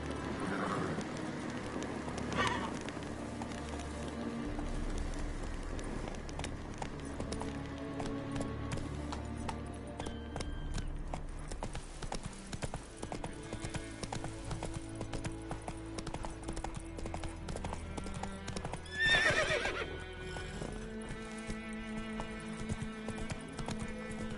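Hooves clip-clop rhythmically as the horse Roach gallops in The Witcher 3 video game, a steady beat set against game music and ambient sound at moderate loudness.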